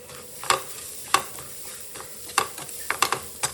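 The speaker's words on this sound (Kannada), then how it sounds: "ಆಮೇಲೆ ಇಷ್ಟು ತೆಂಗಿನಕಾಯಿ ಹಾಕಿ ಚೆನ್ನಾಗಿ ರೋಸ್ಟ್ ಮಾಡ್ಕೊಳ್ಳೋಣ" Chana dal, urad dal, fenugreek, onion, curry leaves and coconut roast in a pan over low flame for sambar masala, with a soft sizzle and several sharp scrapes of stirring, spaced unevenly.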